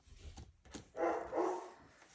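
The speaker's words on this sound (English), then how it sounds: "My dog's about to freak out." A dog barks in a couple of short bursts in the middle of a quiet indoor room, moderately close, with faint low background noise before and after.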